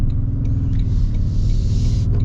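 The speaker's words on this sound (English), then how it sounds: "this V6 can definitely move 35s a lot better than those Tacomas with their 4-cylinder turbo" A 2025 Toyota Tundra TRD with a factory lift, V6 engine and 35-inch tires drives along with a steady low rumble of engine and road noise, loud and continuous.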